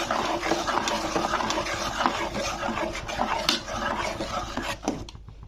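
Thickening water chestnut payesh being stirred in a pot over medium heat, with steady, close scraping and clinking of a spoon against the metal, ending in a few sharper knocks.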